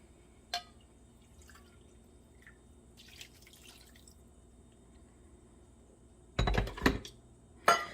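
Leftover brewed coffee from the morning is poured out, heard as brief splashing bursts near the end after a few scattered quiet drips and clinks in a hushed room.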